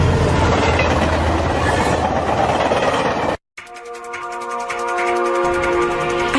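A runaway train with a haywire control valve rattles along with dense clickety-clack, cuts out abruptly for a moment, then returns with tonal wheel and machinery whine, close and loud with no talk.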